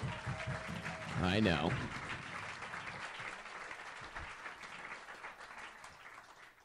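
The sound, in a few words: audience applause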